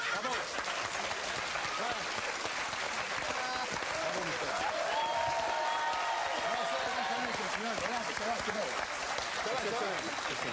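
A TV game-show studio audience applauds in a dense, sustained wash of clapping that runs steadily throughout, with voices talking faintly underneath.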